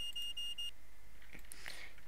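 A Tesco self-checkout gate beeps in a short run of faint, evenly spaced electronic pulses that stop partway, followed by a quiet background hum and a couple of faint tones.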